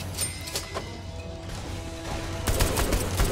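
Bursts of gunfire from the open-world game Saints Row 3 during a game-show shooting contest, fairly faint and scattered with a short louder burst near the end, set against a steady background hum.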